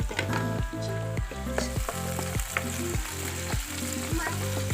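Mushrooms going into a hot frying pan for creamy chicken mushroom, a loud continuous sizzle with rhythmic, regular clanks and scrapes from stirring or tossing, close by and without speech.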